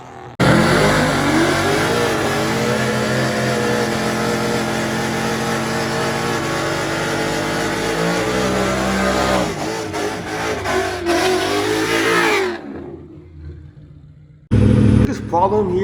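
Street cars race in Las Vegas, engines roaring loud and close in a sustained rising howl for several seconds before fading, ending with a quieter tail and a short burst of noise; voices can be heard faintly.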